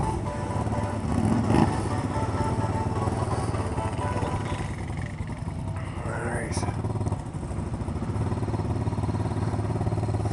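An off-road bike engine in four-wheel drive working along a dirt trail, a steady mid-pitched drone with rumbling mechanical clatter running throughout, fairly close and even in level.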